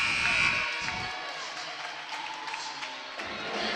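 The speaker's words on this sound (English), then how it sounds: "As the final buzzer sounds" The final buzzer at a women's college basketball game in a Cleveland gym. A short tone sounds near the start, over crowd noise and some voices. A broad arena din continues after it.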